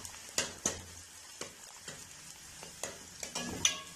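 Chopped garlic sautés with onions in a pan for a vegetable pasta, giving a soft continuous sizzle punctuated by several sharp scrapes and stirs of a utensil against the pan, close and fairly quiet.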